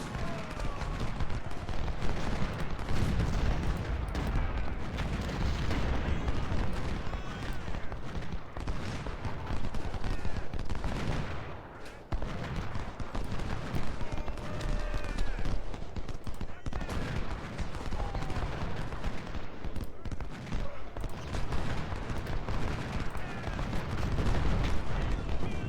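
Sustained battle from the Ultimate General: Civil War strategy game, a dense unbroken wash of massed musket fusillades and booming artillery fire, loud throughout with only a short dip midway.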